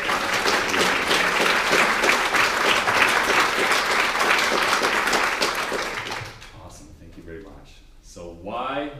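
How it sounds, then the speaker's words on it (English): An audience at a charity book launch breaks into loud, sustained applause for about six seconds, then it fades and a speaker's voice takes over. "So again, give yourselves a round of applause."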